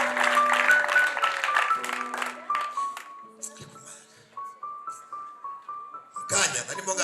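Applause with tonal notes ringing through it, thinning out midway, then a short burst of clapping rising loudly at the end.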